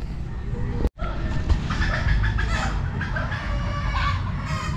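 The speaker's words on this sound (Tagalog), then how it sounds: "Oh, mahapon na naman yung mga manok." Chickens cluck repeatedly in an outdoor rural setting, a steady run of close, overlapping fowl calls over constant background noise, with a brief dropout near the start.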